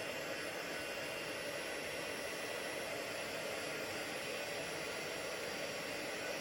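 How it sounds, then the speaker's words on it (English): A craft heat tool blows steadily while warming embossing powder on card, producing an even, airy whirring hiss that runs unbroken and fairly quiet throughout, with no talking. "with the heat tool, I just warm it up for a couple of seconds"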